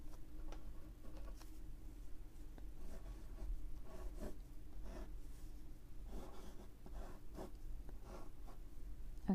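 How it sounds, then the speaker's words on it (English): A pen scratches and taps on paper in short, irregular strokes while sketching two electrochemical cell compartments, quiet and close, with no talking. "So we need to draw 2 compartments."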